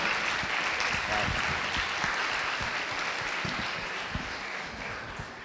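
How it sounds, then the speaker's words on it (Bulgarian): An audience applauds at the finale of a teen innovation competition lecture, steady broadband clapping that holds for several seconds and slowly thins toward the end, with faint voices underneath. "Аплодисменти, благодаря на всички."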